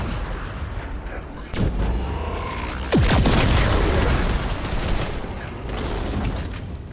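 Gunfire and booming blasts in the video game Fortnite, a dense loud barrage with a sharper explosive burst partway through, continuing over a busy game soundscape.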